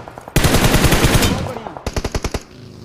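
Rapid automatic gunfire in a mobile shooter game, one long dense burst followed by a short run of separate sharp shots, loud and close.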